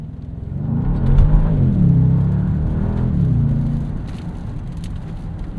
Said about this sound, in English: the grunt of this V8 and just kind of the angry nature of it